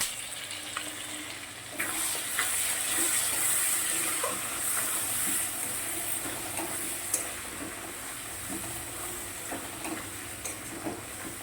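Garlic frying in a pan on a gas stove gives off a steady, bright sizzle with crackling pops, and occasional stirring scrapes sound through it as the hiss gradually softens.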